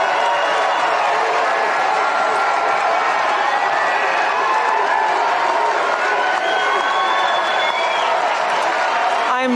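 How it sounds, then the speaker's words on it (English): Loud, sustained crowd applause mixed with cheering and shouts fills a political rally hall where a speaker announces joining the Republican Party; the dense roar stays steady throughout. "Look at the applause."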